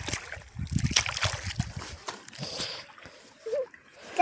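Irrigation water flows and splashes into a millet field, with gurgling and sloshing loudest at the start, then thinning to a softer trickle in the open air.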